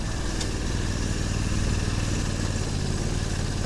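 An Argo 8x8 off-road vehicle's engine runs at a steady, loud mid-pitched drone while driving over rough ground with branches, heard close and continuous without any talking.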